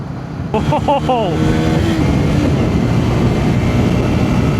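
A Bajaj Pulsar N160 motorcycle is ridden at speed in Pune, giving a steady rushing roar of engine and wind. A voice speaks briefly near the start.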